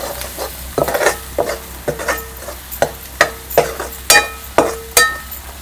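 Onion-tomato masala for a chavali bhaji is stirred in a hot pan: close, regular scraping and clinking strokes about twice a second over a soft underlying sizzle, with no talking.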